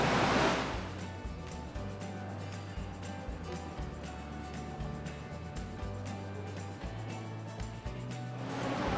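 Atlantic Ocean surf at the Hercules Caves on Cape Spartel, a continuous wash of waves that swells at the start and end, with low wind rumble and booming echoes from the cave.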